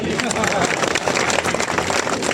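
A crowd claps at an outdoor jayanti celebration for Maharaja Rajurao Bhadavar in the courtyard of Ater fort. The clapping is dense and steady, mixed with crowd chatter and voices.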